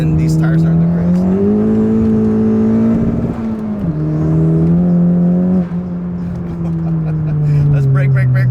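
A car fitted with a strut bar and mediocre tires takes a corner on a slightly wet road, its engine a loud, close drone that holds steady, dips, then climbs and eases off again.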